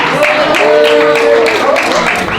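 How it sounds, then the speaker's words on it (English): At a poetry reading, the audience snaps and claps as a performer comes to the stage, a loud burst of clapping with a brief held tone and some voices. "give them 2 snaps, a clap, and throw your head back"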